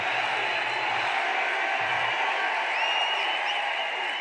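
A crowd at a political rally applauds, a broad, steady wash of clapping and distant cheering that holds at a fairly even level.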